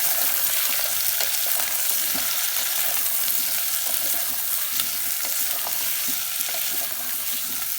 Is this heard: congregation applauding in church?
no